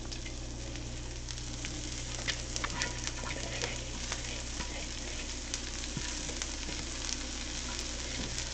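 Food sizzling steadily in a frying pan, a soft continuous crackle with scattered small pops, fairly quiet and without talk.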